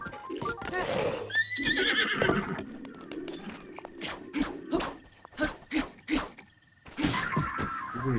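A horse in Breath of the Wild neighs loudly with a long whinny, then hooves clop in a steady run of thuds and knocks, close and clear with no talk over them.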